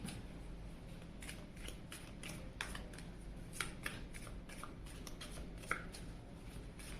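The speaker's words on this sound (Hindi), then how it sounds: "चलिए कार्ड शफल करते हैं" Tarot cards are shuffled by hand in a quiet room, a series of soft, quick riffling and flicking bursts at an irregular rhythm, close and fairly faint.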